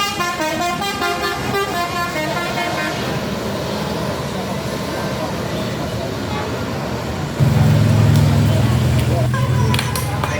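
A new Palala bus's engine drones with traffic noise while horns toot in a melodic pattern, then a deep, louder horn blares near the end.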